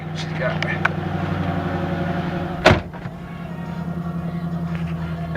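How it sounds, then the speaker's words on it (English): A single solid thud of a Mustang GT door closing cuts through a steady idling engine hum, with soft interior clicks before and after. "shut the door. Let's see what she's got."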